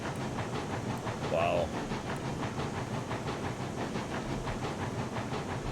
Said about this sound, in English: I can't believe this one Class 70 is chugging the thing along